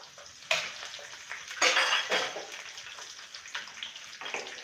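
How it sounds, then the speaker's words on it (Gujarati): Mustard seeds crackle in hot oil, then green chilies and curry leaves drop in, setting off louder bursts of spluttering sizzle over a constant hiss, close and without voices. "તડતડ અવાજ આવવા માંડ્યો છે હવે આપણે નાખીશું લીલા મરચાં એને પણ એમાં ઉમેરી દઈએ એમાં નાખીશું આપણે મીઠો લીમડો"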